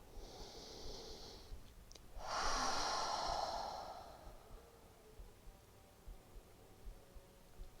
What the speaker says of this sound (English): Take one more deep breath, maybe even exhaling out your mouth.